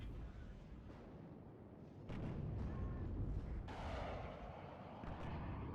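Rumbling artillery fire and explosions boom across a battlefield in the real-time strategy game WARNO, including a fuel explosion, forming a dense continuous roar with heavier bursts partway through.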